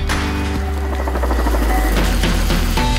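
A firefighting helicopter passes overhead during a wildfire water-bombing operation, its loud, steady rotor and engine drone sustained throughout, with no talking.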